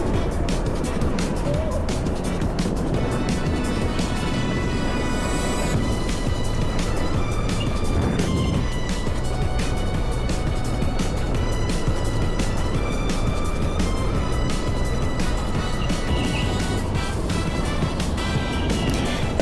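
Go-kart engine droning continuously on an indoor Xtreme Karting track in Edinburgh, a loud buzzing motor with fluctuating pitch and rattling vibration as the kart runs its early laps.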